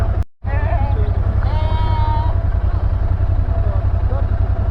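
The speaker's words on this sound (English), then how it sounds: "Goat, sheep." Sheep and goats bleat a few times over a loud, steady vehicle engine rumble on a road in Ladakh, with a brief dropout near the start.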